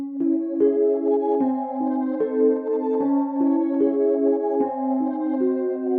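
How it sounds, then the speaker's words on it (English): A Mark I stage piano played dry without effects, with a slow sequence of mellow, bell-like electric piano chords ringing out and sustaining, heard alone and close. "next thing we got is this Mark I stage piano, and this is what it sounds like"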